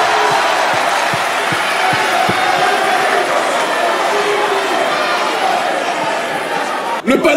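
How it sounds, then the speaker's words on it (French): An audience at a pan-African youth congress applauds loudly and steadily, a dense wash of clapping with some cheering that carries on for several seconds before fading slightly. "Et donc applaudissez-vous, s'il vous plaît,"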